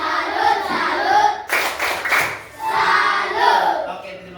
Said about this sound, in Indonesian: kita beri tepuk salut dulu buat Okto